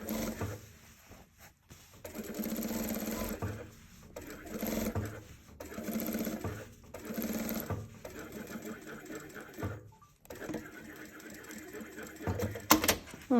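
Sewing machine stitching a welt pocket, running in repeated bursts of rapid whirring stitches separated by short pauses, with someone talking between runs and a sharp click near the end.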